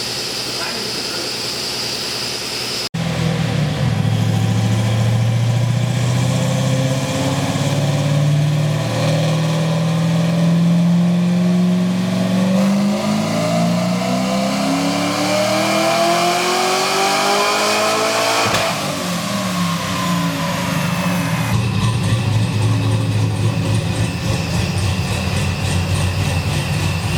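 A ProCharged supercharged 1967 Chevrolet C10 pickup revving hard on a dyno, its engine note climbing steadily through a long, loud pull with supercharger whine before dropping off, then settling back into a rough idle.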